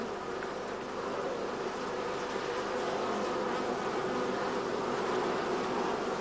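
Honey bees buzz steadily around a hive in a dense, continuous drone, with the humming swarm close and loud from start to finish and no voices.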